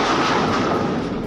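A loud explosion strikes a merchant ship, the MV Transworld Navigator, in the Red Sea, a sustained roaring boom that fills the whole clip at full strength with no talk.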